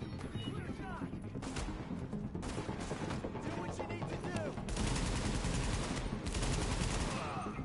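Gunfire in The Division video game, repeated sharp shots and bursts of automatic fire throughout, fairly dense and continuous, with a heavier stretch of shooting in the second half amid game noise.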